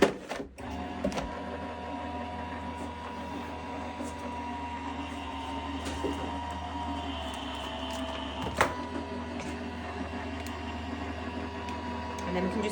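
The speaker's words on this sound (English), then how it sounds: "just send that through your die cutting machine" Die cutting machine feeding orange card through its rollers, a steady mechanical whirring hum with a couple of brief clicks and knocks, running continuously and fairly close.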